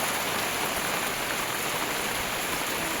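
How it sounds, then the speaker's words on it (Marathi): Unseasonal heavy rain pours steadily on a goat farm, a dense, even hiss of drops hitting surfaces nearby, with no pauses and no voices. "जबरदस्त पाऊस चालू आहे"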